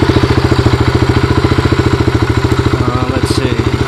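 A motorbike engine runs nearby while a lawn trailer is tested, giving a loud, steady rhythmic chugging throughout, with a voice briefly audible over it.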